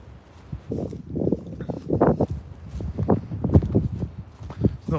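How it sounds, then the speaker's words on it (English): Gusty wind buffets the microphone in the aftermath of Storm Eunice, with uneven rumbling bursts throughout and a few faint knocks in the background. "As you can probably hear, it's still a bit windy."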